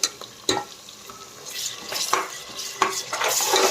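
Onions frying and being stirred in a pan for village-style country chicken dum biryani, with a soft steady sizzle under repeated clinks and scrapes of a spoon against the pan, close and fairly loud.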